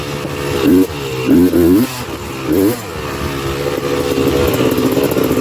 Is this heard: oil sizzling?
no